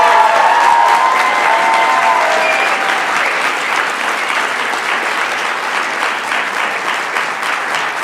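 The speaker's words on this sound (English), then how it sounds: "I think we need a better round of applause." Large graduation audience applauding and cheering at a peace studies ceremony, a loud, dense and sustained roar of clapping with some whistles and shouts early on, filling the room without pause.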